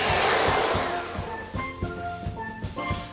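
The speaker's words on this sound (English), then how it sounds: "Great blender. All right, guys, get ready to power it up." A blender's motor whirs loudly, then slows to uneven, pulsing chops as it churns a piña colada cocktail.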